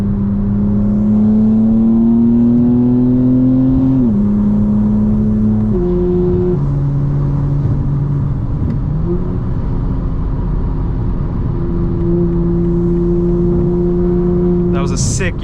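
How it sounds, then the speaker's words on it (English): A 2025 BMW M4 Competition engine drones steadily on a night drive, its pitch stepping up and down through several downshifts, with a brief sharp sound at the end and no speech over it. "See, I downshifted there instead of braking."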